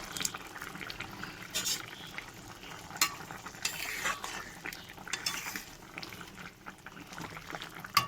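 Fish curry with sliced green chillies simmering in a pot, a continuous bubbling sizzle with a few clinks of a utensil against the pan, close and fairly loud, with no talking.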